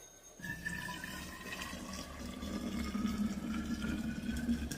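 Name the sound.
pouring boiled water out of a saucepan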